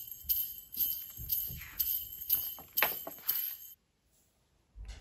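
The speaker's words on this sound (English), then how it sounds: "I'd love to play in an open sleigh." Sleigh bells jingle brightly in repeated shakes alongside soft rhythmic hoof clip-clops, about seven beats, then a sudden silence before a brief low thud.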